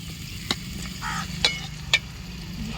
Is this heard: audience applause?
no